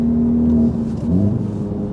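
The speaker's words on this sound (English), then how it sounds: "it's really loud, and we're only going like, for 45 on fourth gear" A loud car engine drones and revs in fourth gear at roughly 45 mph, a sustained close whine that dips briefly and then climbs again.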